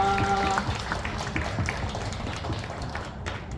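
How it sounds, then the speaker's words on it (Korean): A church congregation claps in brief applause, a dense, moderately loud patter of many hands that settles into scattered claps, with a short sung or tonal note at the start. "우리 하나님께 감사의 박수를 한번 올려드릴까요?"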